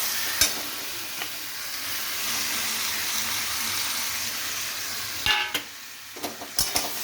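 Pointed gourd, potatoes and prawns frying in a pan give off a continuous hissing sizzle while a spatula stirs, with sharp scraping clacks at the start and a cluster of quick knocks toward the end.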